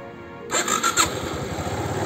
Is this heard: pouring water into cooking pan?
no